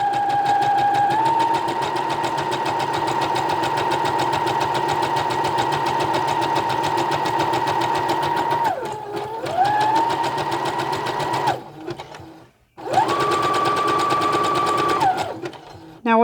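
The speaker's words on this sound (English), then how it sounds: "you're going to stitch all the way down to the bottom of the sock" A sewing machine stitches a sock into doll tights with a steady, loud continuous whir that briefly slows and pauses before resuming.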